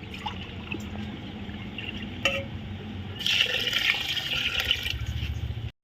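Water poured into a pot of chicken biryani and stirred in, a steady liquid splash and gurgle that swells louder toward the end, close by with no talk.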